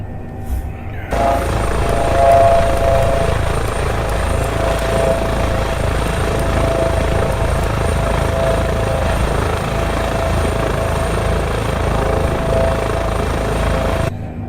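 Life Flight medevac helicopter on final approach to land in breezy wind, a loud steady rotor and turbine roar from start to finish after a quieter opening second, with no talk.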